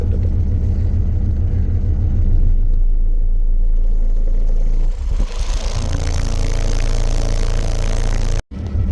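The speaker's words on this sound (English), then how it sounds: "So I'm going to show the port noise here. This is at 28 hertz." A subwoofer from an SPL test setup of 8 CT Sounds Meso 12s in a clamshell enclosure plays a 28 Hz tone, giving a loud, continuous low rumble with chuffing port noise and rattling throughout, broken by a brief dropout near the end.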